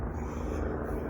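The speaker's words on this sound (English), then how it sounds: "There's a helicopter just passing by" A helicopter passing over a cemetery gives a steady, broad mechanical rumble at moderate volume, heard alone for a brief moment.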